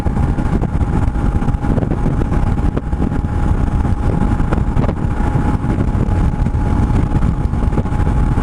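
A BMW R1150GS motorcycle with a boxer engine cruises Highway 101 through Ventura County by the Pacific Ocean, a steady, loud engine drone blended with rushing wind noise and no talking.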